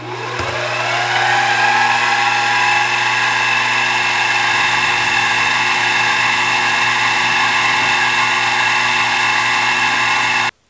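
A King Canada KC-20VS-2 milling machine cuts teflon with a steady, loud mechanical whine and a sustained motor hum that holds even for about ten seconds, then stops abruptly at the end.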